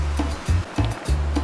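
A wide river rushes past on a trail between Tanay, Rizal and General Nakar, its loud, close flow surging in uneven pulses without any voices.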